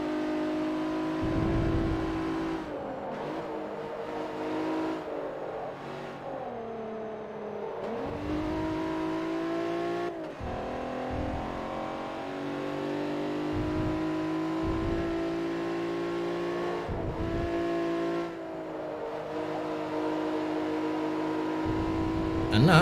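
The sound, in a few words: race car engines racing in Forza Motorsport 3 video game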